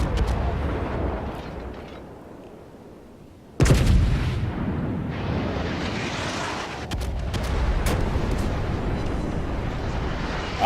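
Battleship main guns fire in World of Warships, one heavy boom rolling in after a quieter lull, then a dense, sustained roar of blasts and rumble that carries through to the end without speech.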